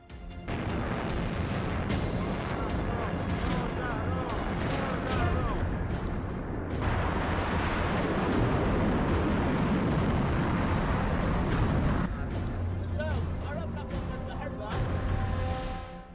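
Heavy artillery fire and explosions from a Hezbollah bombardment roll on as a dense, continuous roar of booms and rumbling, loud throughout with brief shifts in intensity.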